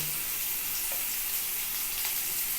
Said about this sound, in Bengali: মশলাটাকে আমি আগে কী করেছি কষিয়ে নিচ্ছি এই যে একটু লঙ্কার গুঁড়ো দিলাম আর একটু জিরে গুঁড়ো দিলাম